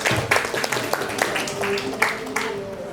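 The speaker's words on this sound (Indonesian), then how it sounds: "Tepuk tangan untuk tim B." Applause for a team at a school quiz competition semi-final, a brief burst of scattered clapping from the audience over crowd chatter and voices.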